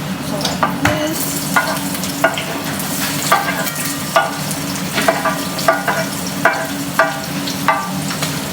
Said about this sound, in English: The onion is starting to sizzle